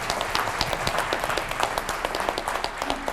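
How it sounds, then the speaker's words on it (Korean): Audience applause greets an honored guest being introduced at a formal Korean gathering, steady dense clapping filling the whole span at moderate level with no talk over it. "박수로 맞아주십시오."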